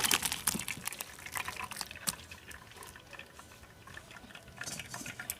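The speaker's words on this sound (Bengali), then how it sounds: "এবার এই ছানাটাকে এই গামলির ওপরে আমি নামিয়ে নেব।" Curdled milk chhena is poured through a cotton cloth into a perforated bowl, making a steady wet splashing and trickling that is loudest at the start and then settles into softer dripping.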